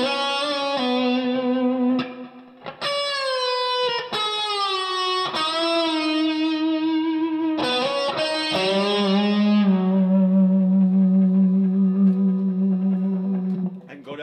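Electric guitar played through a Kemper amp profile drenched in heavy reverb, sustained chords and bent notes ringing out and blooming into long washy tails, with a few sharp pauses between phrases.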